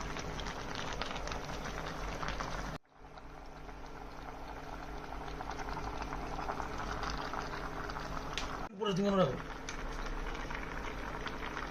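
Sliced onions hitting hot oil in a small wok for a pork curry, a steady loud sizzle that drops away for a moment twice, as if the pan were shifted, then carries on.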